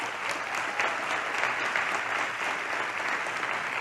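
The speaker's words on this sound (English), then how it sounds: "Let's give them a round of applause." A large crowd applauds steadily, a dense wash of clapping that holds at an even level throughout.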